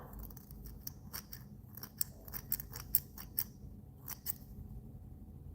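Several soft, close snips of dull scissors trimming waxed thread during fly tying, in quick irregular succession, faint crisp clicks against a quiet room hum.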